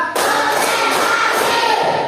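A classroom of students claps together on command during a lesson, a loud burst of many hands that starts abruptly and runs without a break for about two seconds.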